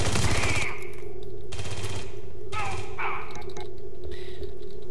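Automatic weapon fire in Aliens Colonial Marines, several sustained bursts of rapid gunfire broken by short pauses, loud and close, mixed with other game effects and talk.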